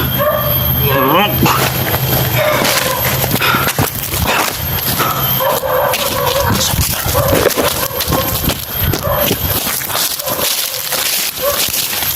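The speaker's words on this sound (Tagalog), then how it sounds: "May mga asong gala dito." Stray dogs bark and yip in a forest, sharp, fairly close bursts scattered among loud overlapping human talk.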